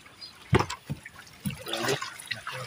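Water is poured into a container in short splashing gushes followed by a brief burbling fill, close and fairly quiet.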